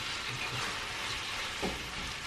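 Beef fries in a pan with a steady, even sizzle that holds at a constant level, heard close and alone, with a faint clunk near the end.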